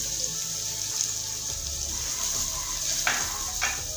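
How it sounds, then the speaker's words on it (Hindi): Garlic-ginger paste frying in a pot for degi daal chawal, giving a continuous steady sizzle with a couple of brief splashy bursts near the end, no talking. "इस तरह से हम इसमें लहसुन अदरक का पेस्ट डालेंगे, थोड़ा सा इसको फ्राई करेंगे"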